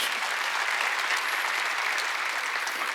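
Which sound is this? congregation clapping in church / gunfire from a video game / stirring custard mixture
congregation clapping in church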